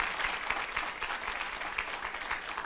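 Congregation applauding during a sermon, a steady, somewhat distant patter of many hands clapping with no break for the whole span.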